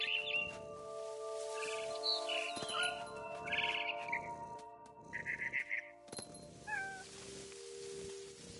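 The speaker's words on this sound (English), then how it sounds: "Then I heard chirping outside my window. It was a barn swallow going back to her nest." A barn swallow chirps in the video game What Remains of Edith Finch, bright bird calls repeating over a steady game backdrop with meow-like cat sounds mixed in.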